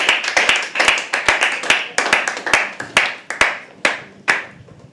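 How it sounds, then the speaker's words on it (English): Scattered clapping from a small open-mic poetry audience, sharp individual hand claps at an uneven rhythm rather than a dense roar, close and fairly loud, continuing steadily throughout. "Can we keep the applause going"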